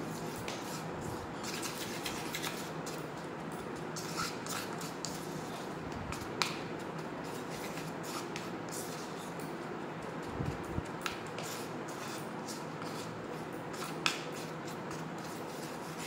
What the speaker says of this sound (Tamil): இஞ்சியோட பேஸ்ட்டு ஆட் பண்ணி நல்லா மிக்ஸ் பண்ணி விட்டுக்கலாம்